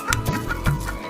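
Farmyard chickens give a few short clucks close by in a quick, uneven rhythm over a faint background hum, with no talking.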